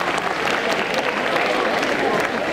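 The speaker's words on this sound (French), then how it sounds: "On les applaudit encore!" Audience applause at a cosplay parade during a Japan manga festival in Quimper, a dense, steady wash of many hands clapping at close range, holding evenly throughout with no voices standing out.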